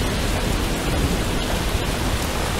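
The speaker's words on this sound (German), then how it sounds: "Oh ja, es regnet." Rain and thunder in the zombie survival video game Dead Age: a dense, steady hiss of loud rainfall with a low rumble beneath it, continuous and unbroken.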